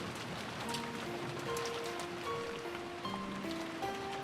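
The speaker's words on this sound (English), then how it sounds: "The inside of the room was commanded by the stillness of the sound of the rain." Steady rain from an Umineko visual novel scene, a soft continuous patter filling the background with faint tonal music lines layered on top throughout.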